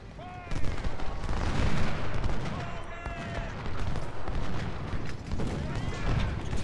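Musket volleys crackle across a Civil War battlefield in Ultimate General: Civil War, a dense rolling fusillade of gunfire with booming low rumble, continuous and fairly loud, with a voice talking over the battle.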